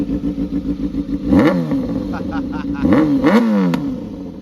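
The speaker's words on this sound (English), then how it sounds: "we're gonna turn it on for the first time with a straight pipe" A Kawasaki ZX6R fitted with a straight pipe idles with a rough, pulsing burble, then blips its throttle twice in sharp, loud revs that rise and drop back. People talk close by.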